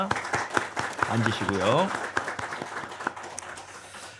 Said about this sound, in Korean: 우리 격려와 축복의 의미를 담아 박수 보내주시면 좋겠습니다